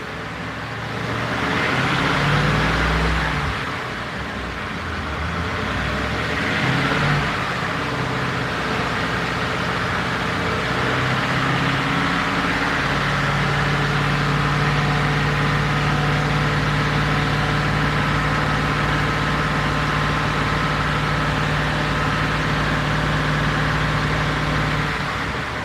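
A car engine idles with a steady low hum, briefly rising in a light rev early on before settling back into an even idle during a coolant service, heard close with no talk.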